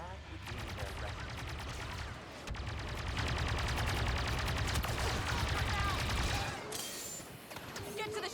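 Blaster gunfire from a Star Wars Battlefront 2 campaign battle: dense, continuous rapid volleys with no letup, dropping out briefly once before the firing resumes, loud and close over a battle din.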